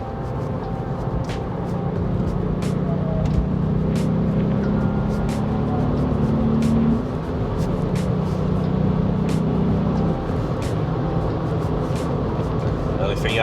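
Steady engine and exhaust drone from a VW Up GTI driven on country roads, a continuous low rumble with road noise and brief dips as the revs change, heard from inside the car.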